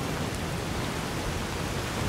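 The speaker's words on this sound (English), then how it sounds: "this rain is very noisy." Rain in Fallout New Vegas pours as a steady, dense hiss that fills the short stretch evenly, with no voices over it.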